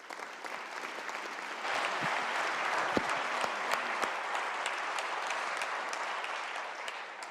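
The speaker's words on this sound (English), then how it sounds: "If the House would please give them all a big round of applause." Members of the West Virginia House of Delegates give the pages a round of applause on the House floor, steady clapping that swells after the first couple of seconds and carries on through the end.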